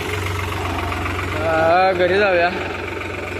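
A tractor hauling a load of fodder runs with a steady, low, throbbing engine rumble close by while someone speaks briefly over it.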